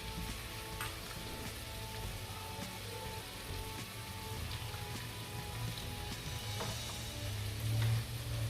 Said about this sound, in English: To this I am going to add the chopped onions.